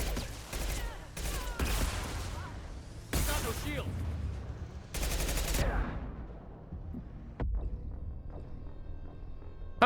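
Mass Effect 2 gunfire: rapid bursts of automatic shots in several long volleys, ending with a couple of single blasts. A person talks over the shooting.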